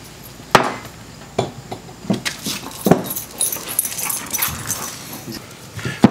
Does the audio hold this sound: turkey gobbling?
no